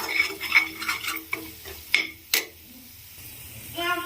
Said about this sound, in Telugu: కలుపుకుంటూ వేయించుకోవాలి, లేదంటే అడుగు పట్టుకుంటుంది